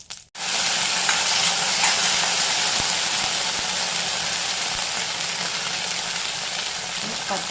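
Whole spices, cardamom and fennel with cinnamon and cloves, fry in hot oil in a pan for paneer masala, giving a loud steady sizzle that runs throughout, with occasional scrapes and knocks from stirring.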